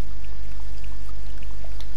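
Water poured onto a carrot plant in the video game Summer in Mara, a short, loud splashing pour with scattered droplet ticks, no speech over it.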